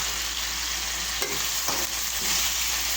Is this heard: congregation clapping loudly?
no